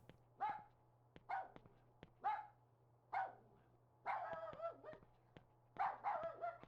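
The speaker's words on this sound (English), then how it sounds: "This sounds like a puppy barking, not a fully grown dog." A puppy in the Rule of Rose video game gives a string of high yapping barks with a short whimpering whine among them, spaced irregularly over a faint steady hum.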